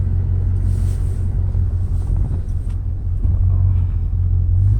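A Lincoln Mark VIII engine idles steadily after starting, a constant deep rumble close by with no voices over it.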